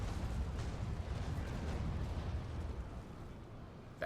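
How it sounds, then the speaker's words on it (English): Continuous roaring rumble of ship cannon broadsides in Naval Action, aboard the Trincomalee or Le Requin, a dense sustained barrage of booms blending together, loud and steady before easing slightly at the end. "I could get used to these broadsides"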